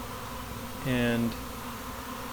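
A honey bee swarm hums as it gathers on the front of a top bar hive, a steady faint drone with one nearer bee buzzing briefly past in the middle, and a voice just audible.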